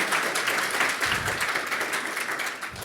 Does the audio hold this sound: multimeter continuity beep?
no